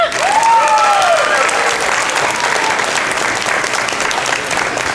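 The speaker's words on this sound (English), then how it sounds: "Can you give them a big cheer?" Crowd applause and cheering for the Lane Cove Community Concert Band at an outdoor plaza gig, a dense steady wash of clapping lasting throughout, with a rising whoop or whistle near the start and scattered shouts mixed in.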